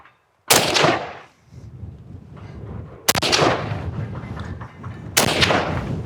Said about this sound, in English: We're only gonna put a couple rounds through it just because this is a collector's piece